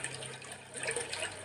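Raindrops falling: a continuous, soft, watery patter with a gentle trickling texture that stays steady throughout, with no voices.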